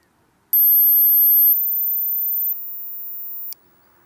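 Four sharp electronic beeps from a Careland solar-powered ultrasonic animal repeller sound about a second apart, each followed by a steady high tone that fills the gaps, fairly loud and alone.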